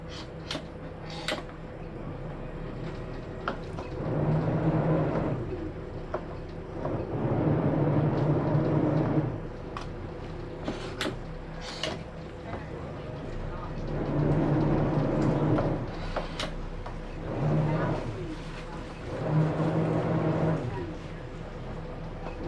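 A yacht's engine idles while the boat creeps slowly toward a dock, its low steady rumble swelling and easing in broad waves, with wind and water noise and occasional sharp clicks over it.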